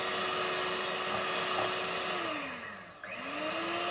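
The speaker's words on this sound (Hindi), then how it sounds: "दो से तीन मिनट मैं हैंड मिक्सर से इसे मिक्स कर लूँगी" An electric hand mixer whips cream for a white forest cake with a steady, close motor whir that dips in speed and pitch near the end, then climbs back up. No voices.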